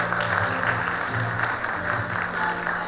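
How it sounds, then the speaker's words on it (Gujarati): An audience at a book launch applauds to welcome guests for a lamp lighting, a dense, steady round of clapping from a crowd, continuous for a few seconds, with no speech over it. "તાળીઓથી સ્વાગત કરીએ."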